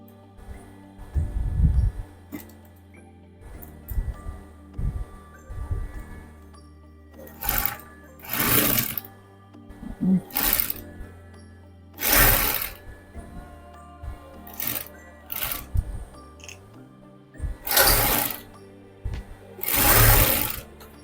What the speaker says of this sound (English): So I'll just sew like three lines like this.